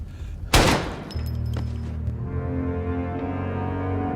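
A single sharp gunshot rings out in a film scene, loud and close, and a sustained low rumbling drone follows it.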